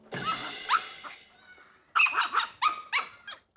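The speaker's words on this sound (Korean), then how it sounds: "짖고 하울링하고 막 줄 풀고" A dog out on a leash walk barks and howls in loud, close bursts: a long drawn howl first, then a series of sharp, whining barks after a brief pause.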